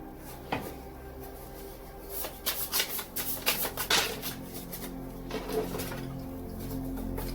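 Tarot message cards being shuffled, a fairly quiet cluster of papery riffles and taps that peaks in the middle and then trails off.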